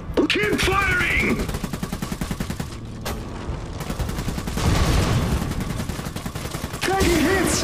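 Dense, rapid gunfire from a siege battle in the video game Iron Harvest, with bursts and volleys rattling close and loud for the whole stretch, mixed with battle noise and brief voices over it.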